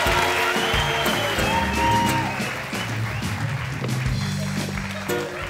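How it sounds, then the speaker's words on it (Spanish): Audience applause at a live talk show, dense and loud with crowd noise and cheering, sustained for several seconds while voices talk over it. "ya, fuerte el aplauso"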